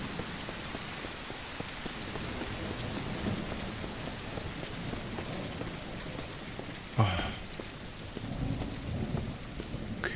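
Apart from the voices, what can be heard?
rain and thunder in the video game Mist Survival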